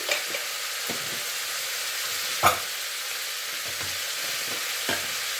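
Turmeric and coriander powder stirred in a hot frying pan for kabuli chana masala, a steady close sizzle with occasional scraping taps of the spoon against the pan, no voices.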